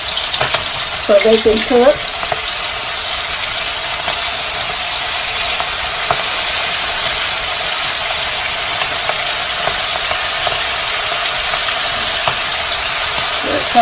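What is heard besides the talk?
food frying in oil on medium heat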